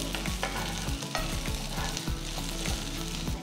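Garlic and shallots sizzling in hot oil over a medium flame for poondu kulambu, with steady close frying hiss and repeated scraping stirs of a spoon against the pan, no voices.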